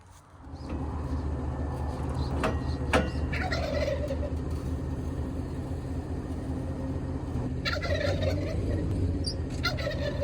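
Turkeys gobble repeatedly in an open pasture, a loud, steady flock chorus with bursts of overlapping gobbles under a constant low rumble, no talking.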